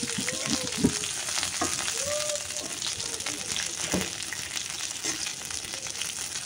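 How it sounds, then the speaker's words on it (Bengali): Hilsa fish tail frying in oil with onions and chilies, a continuous dense crackling sizzle at close range with occasional pops and faint scraping, steady throughout. "আমি লেজটা আর পেঁয়াজ মরিচগুলো এইভাবে ভেজে নিতেছি।"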